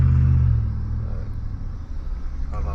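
A 2001 Chevrolet Suburban truck engine idles after a tune-up with new spark plugs and wires, a close, steady low rumble that is loud at first and then settles into an even running drone.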